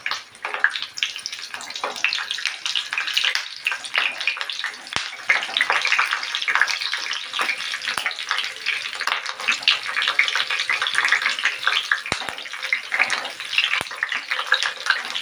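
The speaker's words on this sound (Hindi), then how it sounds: "धीमी आँच पर हम इसे फ्राई कर लेंगे।" Besan-stuffed green chillies fry in oil in a pan over a low flame, giving a steady, even sizzling hiss that runs unbroken throughout with no talking.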